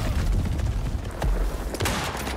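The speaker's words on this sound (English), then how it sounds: "So, we'll just use the shotty on him. Not the shotty, the shotgun." Gunfire in the survival game Icarus: dense, rumbling bursts of shotgun blasts and booms in quick succession, loud and close, with a cluttered game soundscape underneath.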